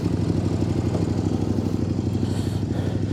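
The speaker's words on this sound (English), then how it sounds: "engine noise test." A 2025 Kove 800X Pro motorcycle runs on its stock exhaust, a loud, close, throbbing engine note with a steady rapid pulse and a rough mechanical clatter, continuing evenly with no voices.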